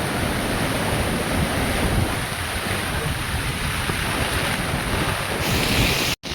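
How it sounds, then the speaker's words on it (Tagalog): Heavy, continuous roar of typhoon rain and wind battering the microphone, a dense rumbling wash of noise with no pauses. "Sobrang lakas ng ulan."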